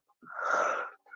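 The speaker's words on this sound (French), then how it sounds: "Baillez." A person yawns during a yoga stretch, one long, breathy, drawn-out exhale that swells and fades, with a brief small breath after.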